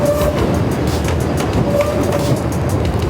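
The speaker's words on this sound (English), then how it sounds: "Train coming, guys." A train passes by at night on a city street, a steady loud rumble of rolling wagons with faint rail clatter and a brief tonal squeal, heard without talk.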